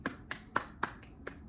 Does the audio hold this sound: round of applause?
yes